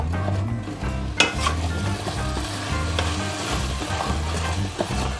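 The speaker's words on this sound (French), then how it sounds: "Fais compoter l'ensemble à feu doux pendant environ 20 minutes." Sliced apples cook gently over low heat with vanilla in a pan, giving a constant soft sizzle with occasional utensil clinks and stirring, and no talk.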